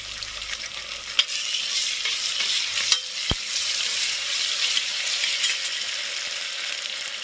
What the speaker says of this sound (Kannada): ಶುಂಠಿ ಬೆಳ್ಳುಳ್ಳಿ ಪೇಸ್ಟು ಚೆನ್ನಾಗಿ ಫ್ರೈ ಆಗಿದೆ